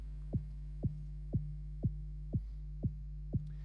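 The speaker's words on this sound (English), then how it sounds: "what it does effectively is it adds harmonics to that pure sine wave to kind of add some more texture on top of the kind of fundamental frequency" A low electronic tone from a pure sine wave thickened with extra harmonics by waveshaping distortion, synthesized in WebAssembly for minimal techno, hums steadily under a soft kick-like thump that repeats every half second.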